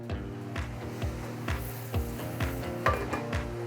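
Stirring a bacalhau seafood dish in a pan, with a steady sizzle and frying crackle under soft, regular scraping strokes roughly every half second, close and moderately quiet.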